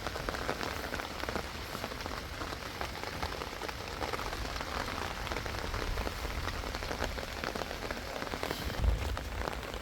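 Steady rain falls on a rural farm plot of vegetable beds, with an even, close hiss of drops pattering on surfaces and no talking.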